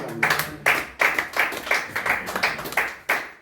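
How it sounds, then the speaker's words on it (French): A church congregation claps in acclamation of the Lord during a French-language Bible seminar, giving a steady run of sharp, close hand claps in quick rhythmic bursts, with no talk over it. "On acclame le Seigneur."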